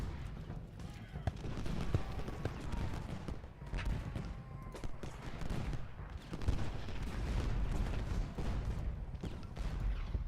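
Massed musket volleys and scattered gunfire from a Civil War battle at Gettysburg's Culp's Hill, a dense continuous crackle of rifle fire with distant rumbling booms, voices murmuring underneath throughout.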